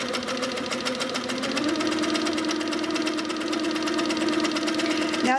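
A sewing machine doing free-motion quilting of feathers, a continuous fast rhythmic needle chatter with a steady motor hum throughout, running alone at close range.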